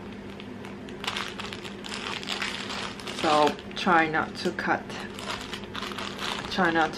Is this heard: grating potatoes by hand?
no